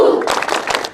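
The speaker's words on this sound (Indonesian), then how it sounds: "Oke, lebih semangat lagi, kita tepuk pandu." A group at a scout camp claps out the tepuk pandu rhythm in a quick burst of several hand claps that are close and fairly loud. A short voice is heard just before the claps.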